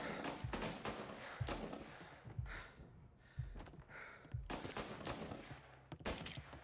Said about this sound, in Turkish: Atışma başladı.